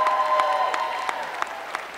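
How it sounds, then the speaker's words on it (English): Audience applause at a school pageant show, a steady patter of many hands clapping with a few whoops rising over it, mid-level and fairly close, no talk over it. "Let's give a round of applause for all the moms in the audience."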